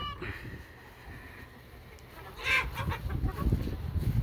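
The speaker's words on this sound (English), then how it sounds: "Here's all the roosters." Roosters and hens in a backyard chicken coop cluck and squawk, and a rooster crow rises partway through over a steady background of birds and outdoor hiss.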